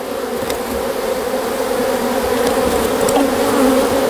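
Steady, dense buzzing of many honeybees close by during a hive removal, a continuous droning hum with no talking.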